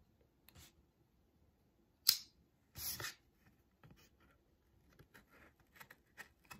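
A Kershaw pocket knife in a cutting test gives a few faint, scattered scrapes and one or two sharper snips in a quiet room, with irregular gaps between them.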